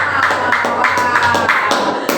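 Audience applause for children at a Christmas program, a steady patter of clapping with periodic louder bursts, continuous over the clip, with voices faintly underneath.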